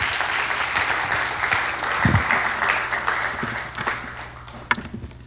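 Sustained audience applause after a lecture at a church pastoral planning seminar, a full room clapping continuously and gradually thinning toward the end, with a sharp louder clap near the close.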